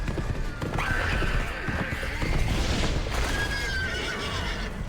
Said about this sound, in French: C'est très stylé, le déplacement à cheval est génial.